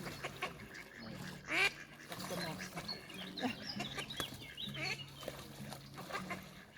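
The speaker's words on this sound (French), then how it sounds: "dirait que les canards" Ducks quack in short bursts near water in the Jardin des Plantes, Montpellier, during mating season, with occasional splashing and faint background voices.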